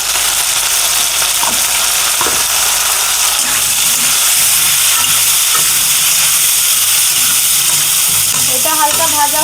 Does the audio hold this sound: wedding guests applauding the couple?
no